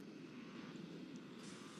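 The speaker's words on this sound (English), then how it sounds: "there's an attack helicopter shooting missiles at us" Aircraft engine drone in the FlatOut 3 racing video game, attributed to an attack helicopter firing missiles over a long, hilly track; a steady, faint, continuous roar with no voices throughout.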